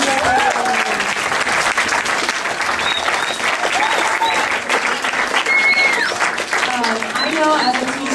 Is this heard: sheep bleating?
no